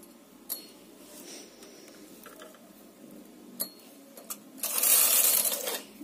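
A knitting machine carriage makes a mechanical clattering pass across the needle bed while knitting a two-color design, with a few sharp clicks and clunks before a louder, sustained whirring sweep near the end.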